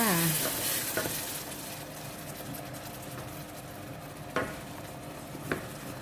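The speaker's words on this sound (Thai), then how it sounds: "ต่อไปก็เทนมใส่ลงไปเลยจ้า" Milk poured into a lightly browned flour roux in a pan raises a steady hissing sizzle, with a few sharp spoon clinks against the pan.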